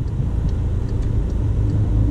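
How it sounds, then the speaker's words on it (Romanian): Street traffic on a Bucharest road as a tram arrives, a steady low rumble of rolling wheels and engine noise holding at a constant level throughout, with no talking. "Vine și tramvaiul."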